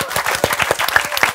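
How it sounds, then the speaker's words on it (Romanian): A studio audience at an evening television entertainment show bursts into applause, a dense, rapid patter of many hands clapping, loud and close, with no speech over it. "Aplauze pentru el."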